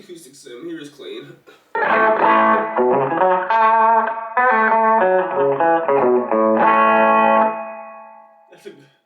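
Guitar notes and chords sound bright and sustained through a Roland Street EX amp on its clean setting, played alone and fairly loud, with short quiet gaps at the start and end.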